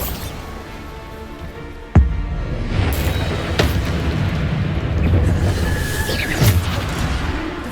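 Bombarda blasting spells in the Hogwarts Legacy video game: a sharp explosive boom near two seconds, followed by further bursts and impacts over a dense, rumbling battle din.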